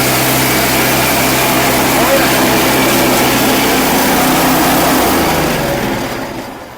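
Engine-powered shredder at a tools shop in Bulacan crushing material: a loud, steady engine drone with grinding noise runs continuously, then the engine fades down near the end.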